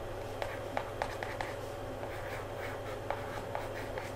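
A brush or pencil taps a series of small dots onto a canvas for an acrylic painting of an almond tree, quiet scattered ticks over a steady room hum.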